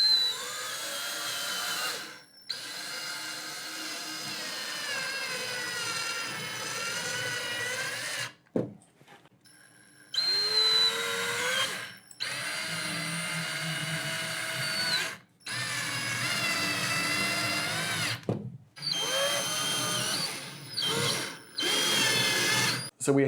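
A power drill drives drywall anchors into a wall for shelves, whining in several sustained bursts with pitch shifting under load, separated by brief pauses, close and fairly loud.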